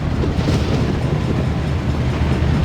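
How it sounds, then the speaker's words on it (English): A freight train passing by in the rain, a loud, continuous heavy rumble and rushing roar that holds steady throughout. "Mordecai, Josiah, John, Matthew, and Timothy were slowly passing by with a freight train."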